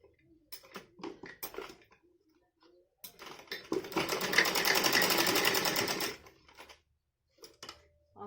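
A sewing machine stitches the elastic casing of a salwar, up close, in short clicking bursts and then a steady whirring run of about three seconds before stopping, with faint handling noises around it.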